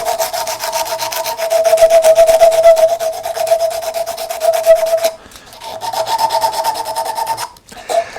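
Flexible sandpaper rubs over a carved wooden hanging shirt in a steady, close scratching run. A brief pause breaks it near the end before the sanding resumes.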